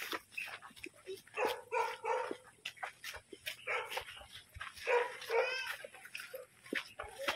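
Dog on a farm barking in repeated short, sharp yips and barks at moderate distance, spread across the stretch with brief pauses between bursts.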